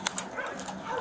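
A pit bull attacking a police officer gives short yelps and whimpers, two sharp cries near the start followed by fainter whining under a noisy background.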